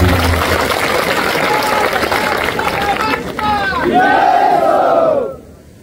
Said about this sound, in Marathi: याच्यासाठी जरा जोरदार टाळ्या मारून त्यांचा